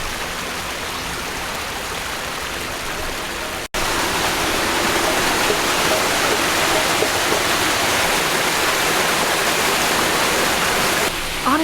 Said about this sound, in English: there's another little stream of water.